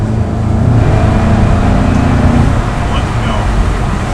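A Hyundai i30 drives the Nürburgring Nordschleife, its engine a loud, steady droning roar with constant road and wind noise filling the cabin throughout.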